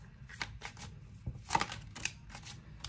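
Tarot cards are shuffled by hand, giving a few short riffling, slapping bursts close to the listener, separated by brief pauses, with a sharper snap near the middle.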